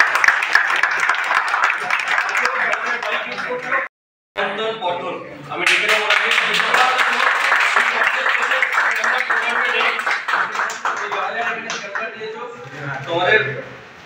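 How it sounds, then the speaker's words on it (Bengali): Applause from a crowd at a Triumph superbike launch and delivery meetup in a Krishnagar showroom, loud sustained clapping that cuts off briefly, then returns, with talk and cheering mixed in. "একটা জোরে হাততালি"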